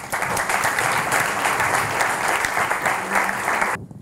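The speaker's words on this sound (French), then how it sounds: "Merci de les applaudir." An audience at a business awards ceremony applauds two award presenters, a loud sustained wash of clapping that cuts off abruptly near the end.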